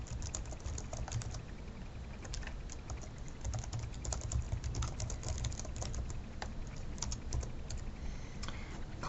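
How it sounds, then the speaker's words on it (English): Quick, light clicks of a computer keyboard tapped in an irregular run as a message is typed, close and quiet over a faint background hum. "Down here is the block where I could type a message."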